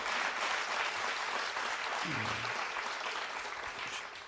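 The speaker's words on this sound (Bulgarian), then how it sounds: "Хората, що пляскат на молба?" A studio audience on a television talk show claps continuously, a dense, even wash of applause that slowly fades toward the end, with a brief voice passing underneath.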